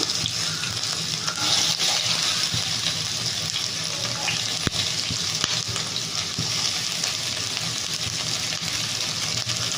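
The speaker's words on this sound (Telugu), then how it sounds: "కొంచెం ఫ్రై చేసుకుంటే చాలు ఆనియన్" Onion fries in a little oil for a potato and rajma curry, a loud, dense hiss of sizzling that runs unbroken, with faint utensil knocks and no talk.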